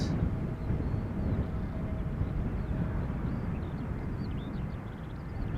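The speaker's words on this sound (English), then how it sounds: "Here we have an EasyJet Airbus about to touch down" An EasyJet Airbus jet comes in to land on runway 18R at Amsterdam Schiphol, a steady broadband roar that holds at an even loudness throughout with some wind rumble.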